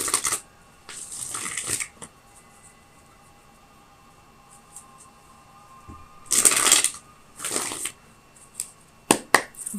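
Tarot cards riffled and shuffled in a few short, crisp bursts, near and fairly loud, separated by quiet pauses, with a couple of sharp taps near the end.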